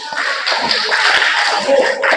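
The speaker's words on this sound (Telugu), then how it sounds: "చప్పట్లు కొట్టండి ఒకసారి" A group of children clap together at a church children's retreat, a dense, continuous patter of hand claps close by, steady and fairly loud throughout with little break.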